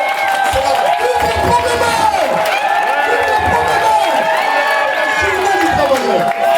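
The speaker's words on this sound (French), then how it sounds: "vous pouvez acclamer, applaudir, vous lever." A large crowd at a Labour Day speech cheers and applauds loudly and continuously, a dense wash of voices, whoops and clapping with shouting rising above it, no single speaker standing out.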